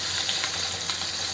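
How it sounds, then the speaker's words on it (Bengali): Fish frying in a pan in a home kitchen, a steady close sizzle with bursts of crackle and spatter holding an even level throughout, no voices. "আর এখানে মাছ ভাজা বসালাম"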